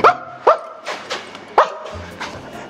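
A person imitates a dog barking, giving about five short yappy woofs in an uneven rhythm, each punchy and close to the mic.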